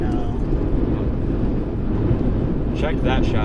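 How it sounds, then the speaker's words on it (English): Strong wind during a Nebraska storm buffets the microphone in a continuous low roar, with faint voices breaking through near the end. "it's going to be really windy."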